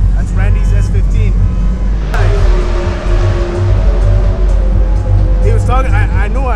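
A Nissan S15 drives past at a car show, its engine note rising and holding steadily beneath loud background music and nearby voices talking throughout.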